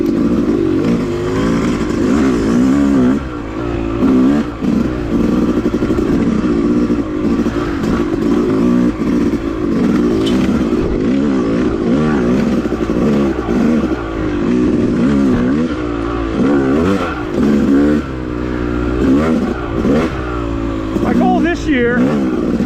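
A Yamaha YZ250 two-stroke dirt bike rides a woods trail at Manchester OHV, its engine revving and rising and falling continuously and loudly under a rider's steady talking.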